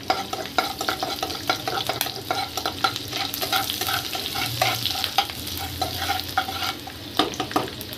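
Chopped garlic frying in hot oil, a dense continuous crackling sizzle with spattering pops, close and loud, mixed with brisk stirring scrapes throughout.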